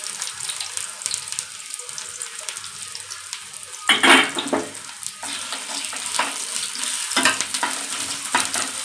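Chopped onion added to hot oil in a pan for an egg and okra fry, a steady close sizzle with a louder crackling burst as the onion goes in, plus intermittent stirring scrapes.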